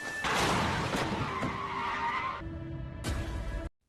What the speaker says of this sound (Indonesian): Tapi sial saat itu ada mobil yang menabraknya.